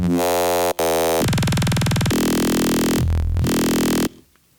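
A wavetable synth patch in Reason built from a kick drum sample plays sustained, buzzy, harsh tones that jump between several pitches, loud and alone, then cut off abruptly.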